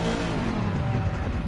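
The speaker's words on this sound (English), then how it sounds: "Listen to the backfire." Mercedes GT race car in Assetto Corsa Competizione, a loud, close engine roar with rough, crackling exhaust texture suggesting backfire pops during a brief burst on track at Imola, no talking.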